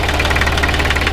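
An air-cooled three-cylinder Deutz D40 tractor engine from 1965 with a Bosch injection pump knocks steadily at idle, loud and close, with a rapid even clatter and no voices.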